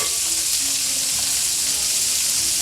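Bacon frying in a pan for shrimp and grits, giving a loud, steady, dense sizzle with no gaps and no talk over it.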